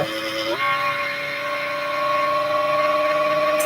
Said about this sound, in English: It's the fan on my computer